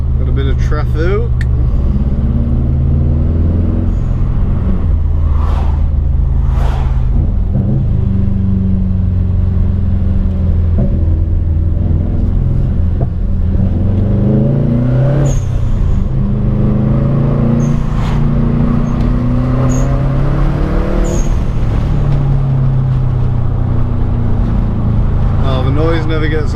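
Subaru WRX STI engine pulling through gears on a mountain road, loud close rising and falling revs with shifts, while someone talks over it throughout.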